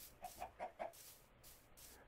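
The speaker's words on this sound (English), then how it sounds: "So many chickens." Minecraft chickens give four short, evenly spaced clucks in quick succession, followed by a quiet stretch with faint clicking game sounds.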